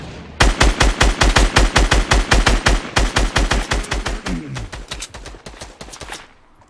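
Rapid automatic gunfire in the video game Fortnite, loud and close, firing in fast bursts with a short pause midway, then a sparser string of shots trailing off; no talking.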